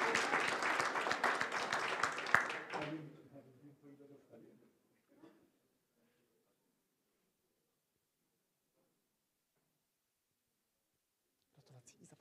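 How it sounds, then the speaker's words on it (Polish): An award gala audience claps loudly for about three seconds before the applause stops abruptly. A few stray sounds and near silence follow, then faint noise returns at the very end. "jeszcze raz gromkie brawa dla wszystkich trzech kategorii."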